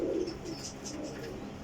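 Pigeons in a loft cooing, large breeding hens and males kept for show; soft, low, throaty coos roll in over a continuous background hum, faint and somewhat distant.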